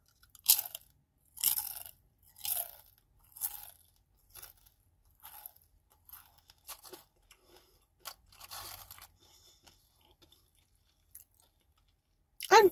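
Tostitos Hint of Guacamole tortilla chips crunch loudly close to the mic in quick repeated bites that thin out into softer, sparser chewing crackles, with no speech.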